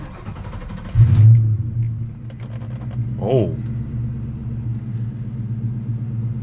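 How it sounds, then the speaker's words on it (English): A Ford Mustang SN95 Cobra fitted with a new Walbro 255 fuel pump cranks and fires up with a loud burst, then settles into a steady, rumbling idle with a brief rev, and a voice briefly reacts. "With one turn of the key, and she started up."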